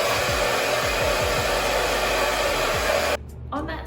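A hair dryer blows steadily and loudly on hair flipped upside down, drying it from the back. The constant rushing whoosh runs for about three seconds, then cuts off abruptly.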